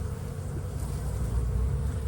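Bees swarm around a hive entrance under the skirting of a building, a dense, steady buzzing that stays loud and continuous throughout.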